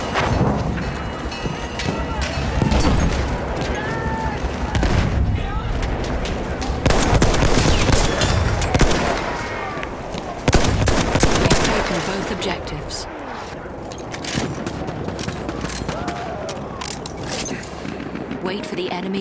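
Battlefield 1 combat with an artillery barrage and gunfire: dense machine-gun rattle, rifle shots and heavy booms run continuously, loud and close, with voices calling out amid the fighting.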